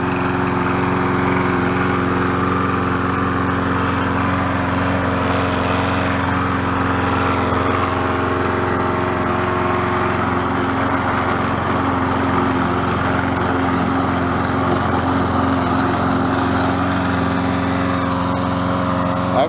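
A Troy-Bilt push lawn mower engine, freshly carburetor-cleaned, runs loud and steady close by for the whole stretch, with no voices over it.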